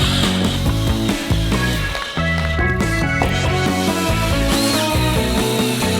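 A power drill drives screws to fix together a wooden box, the motor whirring loudly and almost continuously with brief dips between screws over background music.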